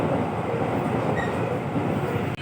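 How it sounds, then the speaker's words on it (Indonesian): A KRL Commuter Line electric train runs steadily, with a loud continuous rumble of wheels on rail and a broadband hiss heard from onboard, with no talking. "Ini KRL."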